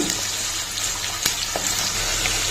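Chopped onions, cut in medium pieces, sizzling in a pan for okra soup (bendakaya pulusu), a steady close hiss of frying with a soft crackle throughout.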